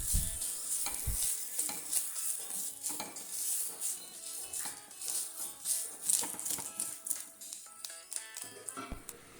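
Grated coconut, curry leaves and a piece of ginger sauté in oil for breadfruit curry, with a spoon repeatedly scraping and stirring against the pan over a soft, close sizzle, and no talking.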